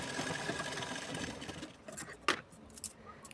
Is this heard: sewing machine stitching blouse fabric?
yes